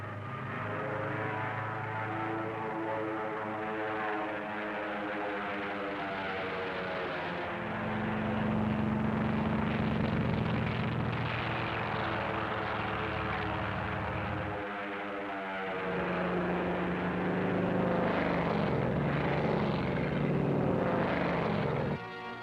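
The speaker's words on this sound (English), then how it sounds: "the drone aircraft are launched and temporarily guided from the carrier" Propeller-driven drone aircraft are launched from a carrier during the Operation Crossroads atomic bomb tests, giving a continuous droning engine hum whose pitch shifts and swells louder in stages.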